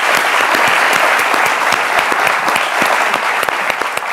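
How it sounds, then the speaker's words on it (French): A studio audience on a French midday talk show applauds a guest's arrival, with loud, close, sustained clapping from many hands and sharp individual claps standing out throughout. "Il s'agit bien évidemment de Lynn Jabert, que je vous demande d'applaudir déjà"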